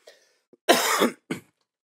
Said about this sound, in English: the never-ending cough that I have after I got sick